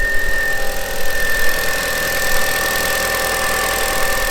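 Audi TT 225 engine idling smoothly and steadily after a rocker cover gasket change, a close, even hum with a constant high whine running through it, no other sounds.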